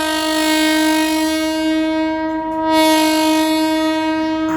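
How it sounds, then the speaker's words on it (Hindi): A train arrives at platform 1 of Jaynagar railway station and sounds a long, loud, steady horn with a rich harmonic tone. The horn holds close and unbroken for several seconds and swells slightly near the end. "हमारी ट्रेन यहाँ पे आ रही है जयनगर रेलवे स्टेशन के प्लेटफॉर्म नंबर 1 पे"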